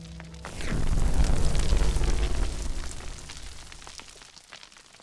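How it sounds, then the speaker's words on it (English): A deep rumbling blast as stone statues burst apart from a magic spell in a Hogwarts Legacy story, swelling quickly after a quiet start and then slowly fading with scattered crackling debris. "one magic spell later, all the rest of the stone statues explode"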